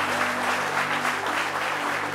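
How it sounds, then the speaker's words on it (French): A studio audience on a French-language midday television show applauds guest Georges Taï Benson with steady, full clapping, loud and continuous, over a faint low steady hum. "Applaudissez."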